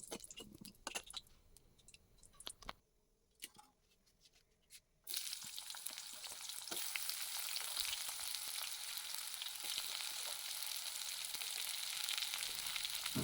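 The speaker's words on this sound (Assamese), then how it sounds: "এনেকৈয়ে পিঁয়াজখিনি মই ভাজি লৈছোঁ" Finely chopped onions frying in a pan with bay leaves and spices for an Assamese chicken curry, a few scraping stirs and clicks, a brief lull, then a loud, steady, close sizzle that continues to the end with no voices.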